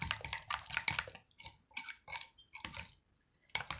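Spoon beating a henna and lemon oil mixture in a bowl, with quick bursts of close clinking and scraping strokes separated by short pauses, alone and fairly quiet.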